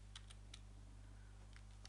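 Quiet computer keyboard typing into a browser console, a few sparse key clicks over a steady electrical hum.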